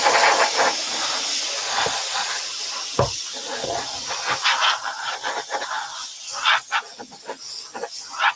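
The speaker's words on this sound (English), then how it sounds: "just whack the airbrush over it" Airbrush hissing as it sprays paint in short, irregular bursts, a soft continuous hiss broken by sharper puffs, close and fairly loud.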